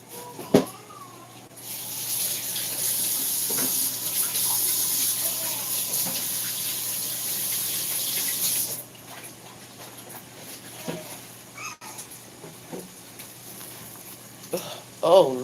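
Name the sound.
water running from a tap while washing hands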